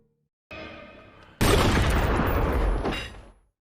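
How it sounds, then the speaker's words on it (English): A sniper rifle shot in a film thriller bursts out as one loud, sudden blast after a quieter tonal stretch, with a dense rumbling tail that fades over a couple of seconds. "the assassin blows his head off with a single sniper shot"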